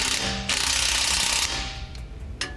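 A ratchet drives a loud, rapid buzzing burst while tightening the bolts of an off-road bumper on a Jeep JK. It runs close and continuous for about a second, then fades into quieter clicks, with no voices.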